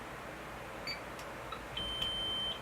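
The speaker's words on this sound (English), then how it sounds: "It takes about a second to self-test, and then it makes a beep, beep, and then it's ready to go." InterX handheld device chirping after its power-on self-test: a few faint, thin electronic beeps, then a steadier tone near the end, over quiet room hiss with no talking.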